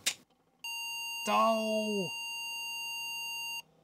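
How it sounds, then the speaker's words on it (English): An Apple computer with 30-pin to 72-pin SIMM adapters in its motherboard sounds a steady electronic error tone lasting about three seconds, while a man exclaims briefly over it. "If you hear that beep, it's not working."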